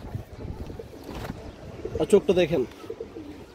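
Female pigeons coo in soft, throaty bursts, clustered most densely near the end, heard close up beneath a man's speech.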